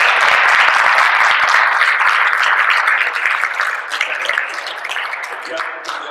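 Audience applause at a lecture on the poet Ausiàs March and the Valencian language: steady, dense clapping that fills the room for about six seconds and eases slightly toward the end.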